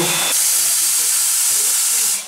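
A steam locomotive releases a loud, sustained hiss of steam close by, a broad rushing blast that starts abruptly, holds steady for about two seconds and then tapers off.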